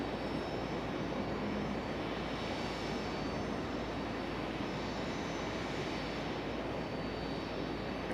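An American Airlines plane arriving from Miami at Raleigh-Durham airport, a steady broadband jet engine roar at moderate distance with no talking.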